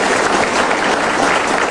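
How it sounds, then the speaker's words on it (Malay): Steady applause from a large audience greeting the Chief Minister of Sarawak, Adenan Satem, at an evening special programme; dense continuous clapping that holds at an even level throughout, with no voices over it. "Terlebih dahulu kita berikan tepukan kepada tetamu kehormat kita"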